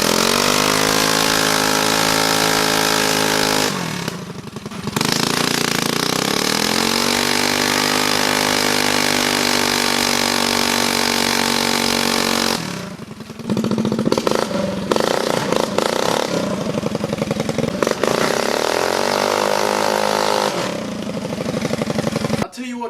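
A small lawnmower engine mounted on a drift trike runs loud and close with a raspy, buzzing drone that revs up and down, briefly drops out and sputters before roaring again.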